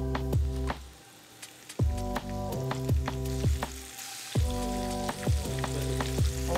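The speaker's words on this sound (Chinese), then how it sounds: "我们就这样子半炸半煎的去炸这个虾" Prawns shallow-frying in a thin layer of oil in a pan, a steady sizzle punctuated by repeated sharp spatter pops and stirring knocks, close and fairly loud with no talking.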